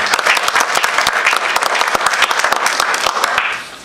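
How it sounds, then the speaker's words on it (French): Loud, lively applause from an audience at a French village gathering, with many sharp individual claps standing out in a fast, dense rhythm that carries steadily for several seconds before it starts to thin. "Vous pouvez l'applaudir aussi"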